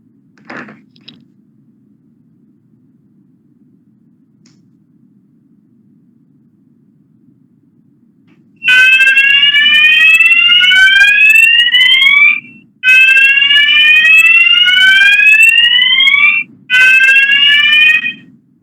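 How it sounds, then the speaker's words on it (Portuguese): An audiovisual signaling beacon wired to a flame detector in a fixed MSA gas detection system sounds a simulated alarm: loud rising electronic sweeps in three long bursts with short gaps, after a faint background hum. "eu vou simular um alarme aqui no detector de chama para vocês verificarem o funcionamento"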